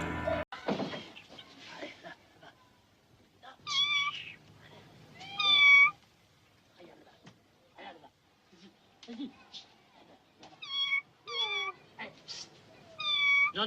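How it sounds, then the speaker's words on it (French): A frightened cat meows repeatedly in short, rising wails between bumps and thuds. People talk around it, and the cries are loud and close with gaps between them. "vous lui faites peur à ce chat"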